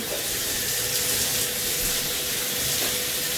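Water running steadily from a tap while hair is rinsed with the head flipped upside down, a continuous close broadband rush and splash with no talk.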